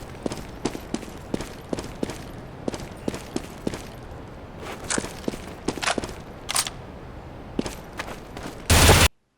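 Gunfire rings out in Counter-Strike: Global Offensive, with rapid sharp shots in short bursts and single cracks spread across the clip, fairly close, ending in a loud burst of noise.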